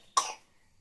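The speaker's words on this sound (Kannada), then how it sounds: "ನನ್ನ ಮಗನಿಗೂ ಕೆಮ್ಮಾಗ್ಬಿಟ್ಟಿದೆ ಪಾಪ, ಸಿಕ್ಕಾಬಟ್ಟೆ ಕೆಮ್ತಾನೆ" A single short cough from a young boy with a cold, one sharp burst that fades quickly into quiet.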